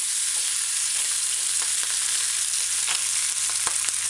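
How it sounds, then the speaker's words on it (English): Ham sizzles steadily in a pan on a stove over medium-low heat, a close, continuous hiss with faint pops and crackles and no voices. "you just flip the ham now on the other side. And just allow it to fry."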